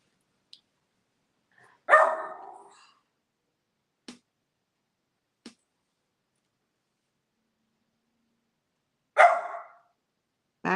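Two separate barks from a dog some distance away, spaced several seconds apart, with a few faint clicks and ticks in the quiet between.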